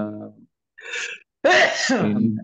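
A single sharp sneeze bursts out between stretches of a man's speech during an Arabic grammar lesson, brief and fairly loud, with talking before and right after it.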